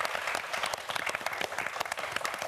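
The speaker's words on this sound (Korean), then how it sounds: "우리 이태규 학생에게도 큰 박수 부탁드립니다" Brief applause from a studio audience for a student contestant on a televised quiz show, a short burst of many hands clapping, moderately loud and uneven.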